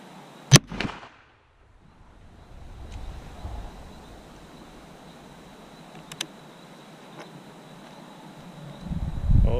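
A Super Blackhawk Hunter revolver fires a single sharp .44 Magnum shot with a gas-checked bullet just after the start. The report is followed by a brief echo and quiet outdoor background, then a rising rumble near the end.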